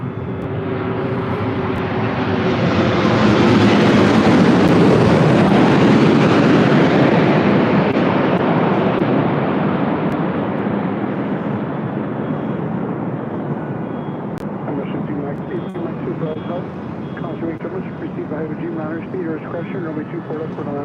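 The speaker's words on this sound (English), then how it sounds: "That was Flight 26 with American Airlines coming in from Tokyo Haneda on the 787-8 Dreamliner." An American Airlines Boeing 787-8 Dreamliner in from Tokyo Haneda lands at LAX, its loud jet roar building to a peak and then slowly fading away, with people talking over the tail end.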